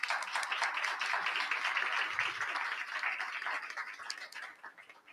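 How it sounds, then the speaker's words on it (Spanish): Audience applause at a book presentation in Mexico, a steady patter of clapping heard from a distance, fairly faint and tapering off toward the end. "También un aplauso,"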